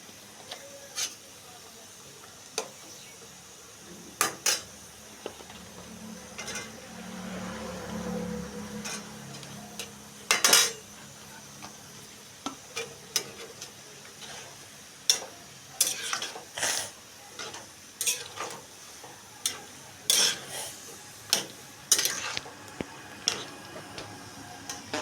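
Okra and mixed vegetables are stirred in a pan, a spatula scraping and clicking against the metal in irregular bursts over a faint low simmer, close and intermittent.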